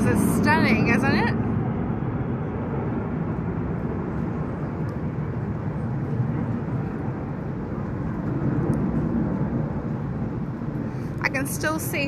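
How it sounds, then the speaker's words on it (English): A deep, steady roar of military planes in the Bastille Day flyover over Paris, 14 July 2021, fills the whole stretch, loud and sustained, with brief voices near the start and end. "Love the noise of the planes."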